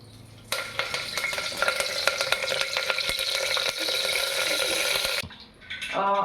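Mustard seeds and curry leaves hit hot oil for a mutton boti curry, starting a sudden loud crackle full of sharp popping spatters that holds steady for about five seconds and then cuts off, followed by a few faint clinks.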